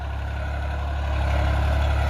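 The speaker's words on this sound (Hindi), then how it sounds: "पहले का हाई में तो बहुत ही ज़बरदस्त चाल है ट्रैक्टर की" A New Holland 3600-2 tractor hauls a light 9-tine cultivator across a field, its engine a loud steady drone that swells slightly, with no one speaking.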